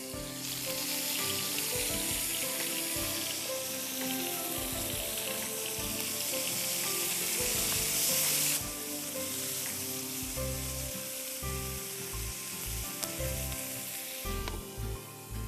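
Cumin, whole garam masala and round button red chilies sizzle in hot oil for a malai boti pulao, a loud, steady, close frying hiss that carries on for about fifteen seconds with no talking.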